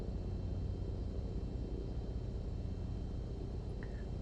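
A Cessna 152 light aircraft engine idles at about 1000 RPM, producing a steady, close, low droning rumble with no breaks throughout.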